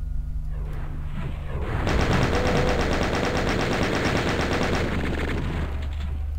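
Chaingunner enemies in the Doom game firing chainguns, a loud rapid stream of machine-gun fire lasting about three seconds over a constant low game rumble.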